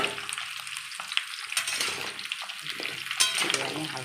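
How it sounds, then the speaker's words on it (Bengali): Four peeled garlic cloves frying lightly in oil for a sweet-sour-spicy hog plum pickle, a continuous close sizzle with occasional clinks of a utensil against the pan, no talking. "দিয়ে আমি হালকা করে তেলের সঙ্গে ভেজে নেব"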